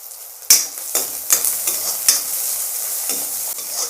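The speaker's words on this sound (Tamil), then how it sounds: "நல்லா வெங்காயம் நல்லா வதக்கிடலாங்க" Sliced onion sautés in a pan for potato poriyal, a bright sizzle broken by repeated scraping strokes of a spatula in quick succession, close and without talk.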